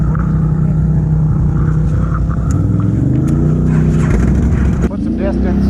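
A 2018 Polaris Sportsman Highlifter 1000 XP ATV engine rumbles steadily in low gear during a water crossing, its note rising slightly as it pulls, loud and close with talk over it.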